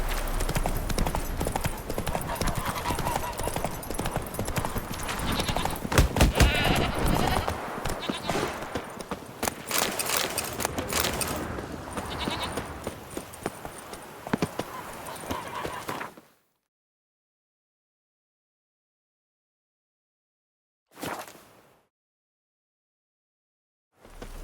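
Horse hooves clip-clopping in The Witcher 3: Wild Hunt, a brisk steady trot for about sixteen seconds, then silence broken by one short burst of sound.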